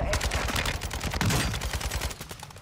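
Rapid automatic fire from a cursed AK rifle in Call of Duty on Ashika Island, a dense loud burst of shots that tapers off near the end.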